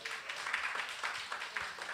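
A live comedy-show audience at The Epiphany claps on request, a dense, steady patter of many hands that fills the room near and loud for the whole stretch, with a few voices mixed in.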